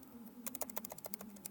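Quick, irregular keystrokes on a computer keyboard type a file name, a close patter of about a dozen light clicks over a low background hum.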